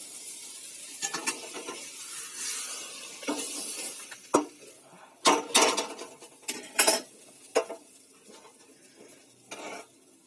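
A pot of taro greens cooked with hilsa fish heads is handled on the stove, with metal clanks, scraping stirs and a soft sizzle between sharp utensil knocks.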